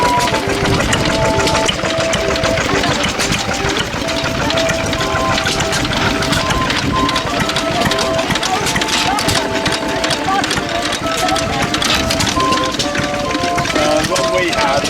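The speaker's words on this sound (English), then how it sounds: "These are stationary engines." Vintage stationary engines running at an outdoor vintage rally and tractor event, a dense, continuous chugging and clattering heard close while walking past, with people talking over it throughout.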